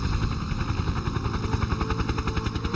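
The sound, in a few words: US attack helicopters circling overhead, video game Combat Mission: Shock Force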